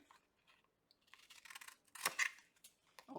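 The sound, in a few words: trimming a collage journal page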